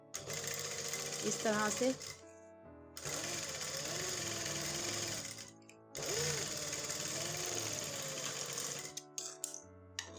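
A sewing machine stitches along the edge of a trouser in a tailoring workshop, running in three long steady bursts separated by brief pauses, loud and close, while a person speaks briefly over it.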